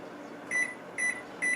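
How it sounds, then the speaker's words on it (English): Three short, evenly spaced electronic beeps from a kitchen timer being set beside a hot skillet, clear and close over a quiet background hum. "I get ready to set my timer."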